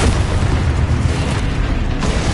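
A loud, booming blast from the Expulso spell in the video game Hogwarts Legacy, a sustained roaring burst of explosion noise that holds strong throughout, with a sharper hit near the end.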